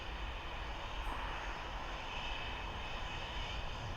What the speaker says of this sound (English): Aer Lingus off to Marrakesh.